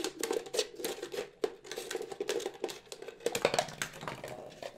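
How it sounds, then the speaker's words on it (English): Scissors cutting around recycled plastic for a planter, a close, quiet run of irregular snips and crinkling plastic taps with brief pauses. "Once I get a hole, I can cut this all the way around with scissors."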